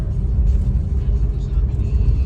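Street traffic rolls past on a busy road, a dense low rumble of engines and tires close by, with a person talking over it.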